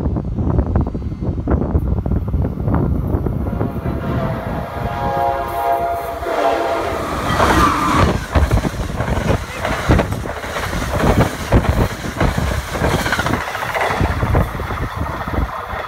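An Amtrak train passes close by at Jersey Ave station in New Jersey, a loud rumble of rail cars and wheels that runs steadily throughout, with a horn blast near the start.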